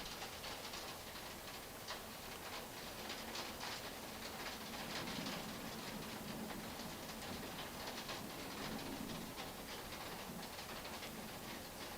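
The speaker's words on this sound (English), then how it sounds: "So the rain's like going sideways if it's hitting that window." Heavy rain driven sideways against a window, a steady dense hiss with faint patter and ticking, continuous and fairly close throughout without voices.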